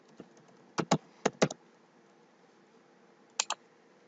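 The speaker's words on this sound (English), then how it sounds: "Type your password." A few quick keystrokes on a computer keyboard, two short pairs of clicks early on and another pair a couple of seconds later, close and fairly quiet against a faint room hum.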